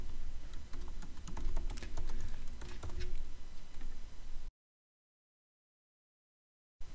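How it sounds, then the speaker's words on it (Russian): Rapid keystrokes on a computer keyboard as an e-mail address is entered, a dense run of clicky taps for about four and a half seconds, then silence. "если я введу здесь свой e-mail"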